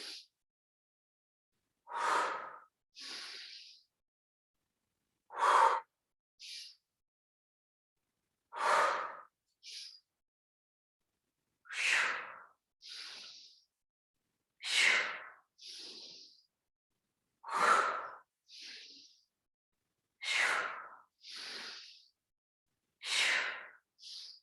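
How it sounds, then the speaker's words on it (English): Deep breathing during a fascia exercise class, with slow inhales and exhales, each breath a soft airy whoosh followed by a quieter one, repeating at steady intervals with silence between and no talking. "Just inhaling up and then exhale."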